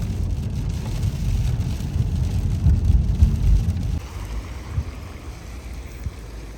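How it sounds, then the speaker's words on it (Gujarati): Rain falls outside a Tesco car park with a dense, low rumbling patter that grows heavier and then eases partway through. Nobody speaks. "વરસાદે ચાલુ જ છે"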